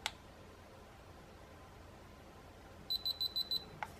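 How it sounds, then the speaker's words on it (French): A RunCam 3 action camera powering off gives a quick series of short, high electronic beeps, close and clear over faint room hiss, framed by a couple of soft clicks. "Une série de 3 bips et la caméra est éteinte."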